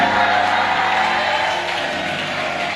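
A church congregation cheers and applauds loudly in a sustained standing ovation, dense clapping mixed with shouts and whoops throughout.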